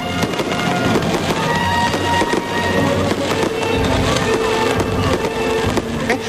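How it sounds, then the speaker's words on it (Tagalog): A fireworks display at a national fireworks festival in the Philippines, set to music, with dense, continuous crackling and booming bursts, loud and sustained throughout. "Kanya-kanya silang gimmick sa fireworks display."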